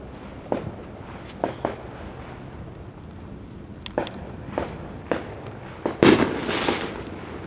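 Fireworks go off in a series of sharp, separate cracks and pops at irregular intervals, ending in a louder, longer burst, heard at a moderate distance with no talking.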